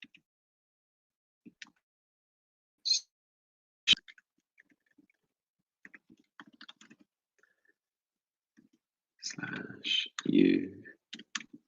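Scattered, quiet clicking keystrokes on a computer keyboard come in short bursts with pauses between, followed by someone speaking briefly near the end.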